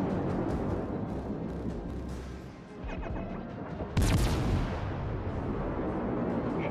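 Naval artillery from the cruiser Des Moines in World of Warships: Legends, fired at a Montana battleship: one sharp, loud cannon blast booms up mid-clip over a constant rumble of battle ambience, with softer thuds before it.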